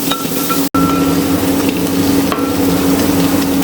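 Green chillies and onions sauté in a pan for a Kerala-style country chicken curry, giving a loud, dense, steady sizzle with a faint stir or two and a brief cut-out early on.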